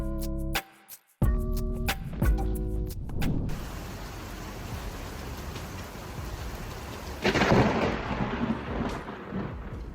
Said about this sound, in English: A lightning bolt tore through the night sky at a quiet intersection, a violent flash amid storm warnings